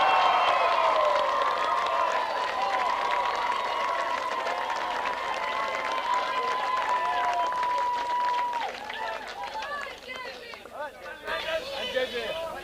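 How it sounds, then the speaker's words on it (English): Crowd at an All-Ireland club hurling match applauds and cheers a hurler, James E. O'Connor, a dense roar of clapping and shouts with a whistle-like tone sustained through the first part, loud and close, thinning toward the end. "Lads, a big round of applause for the man with the big heart"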